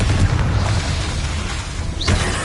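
Bombarda and Confringo spell explosions in the video game Hogwarts Legacy, a loud continuous rumbling boom with a dense low roar and a sharp whooshing burst near the end.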